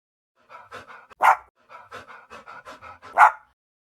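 A three-year-old poodle pants in quick, rhythmic bursts close by, with two sharper, louder breaths standing out among the steady huffing.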